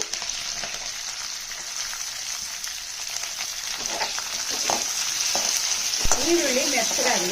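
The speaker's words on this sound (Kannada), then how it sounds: "ಮೆತ್ತಗಾಗುವವರೆಗೂ ಕೂಡ ಚೆನ್ನಾಗಿ ಫ್ರೈ ಮಾಡಿ" Onion and curry leaves sizzle steadily in hot oil for green gram curry, a constant frying hiss with occasional stirring clinks that grows slightly louder toward the end; no one speaks.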